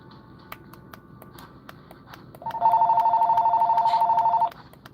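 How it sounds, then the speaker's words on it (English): A telephone rings in a room, one long burst of rapid electronic trilling after a few quiet seconds, loud and close, with light clicks before it. "Phone ringing."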